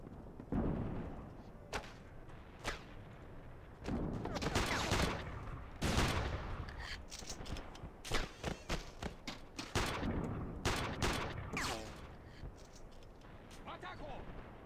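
Gunfire in the Iron Storm war shooter, repeated sharp gunshots and bursts of automatic fire with heavy thuds, loud and irregular across the whole stretch, with someone talking between shots.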